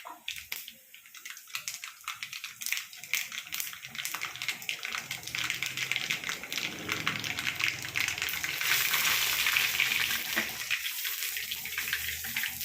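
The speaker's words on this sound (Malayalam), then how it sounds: "കടുക് പൊട്ടി വരുമ്പോൾ കുറച്ച് കരിയാപ്പില ഇട്ട് കൊടുക്കാം." Mustard seeds splutter and crackle in hot oil, followed by curry leaves. The result is a dense, continuous sizzle with quick popping, close and moderately loud throughout.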